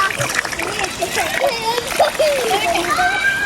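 Small children bathing outdoors in water, with steady splashing and sloshing under their high chatter and squeals.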